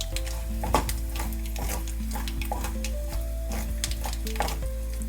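Ingredients for Bambino upma fry in a pan with a steady close sizzle, while a spoon stirs and scrapes against the metal in frequent light clinks throughout, and no voices.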